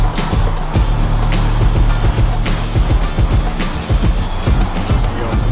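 A JDM car accelerating hard at a car meet, engine roaring loud and close with a turbo spooling up, the revving rising and falling in repeated surges, and a few clicks and knocks scattered through.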